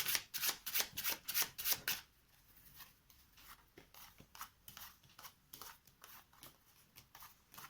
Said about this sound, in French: Donc on distribue 5 cartes à chaque joueur.